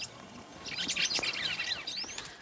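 A burst of busy, close bird chirping and tweeting fills a couple of seconds near a bird trap, the rapid calls overlapping against a quiet background.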